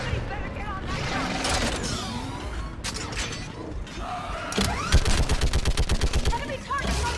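Mounted gun firing in a Space Man Legends video game battle, rapid evenly spaced bursts standing out over a dense wash of explosions, mechanical clanks and effects, with voices calling out in the mix.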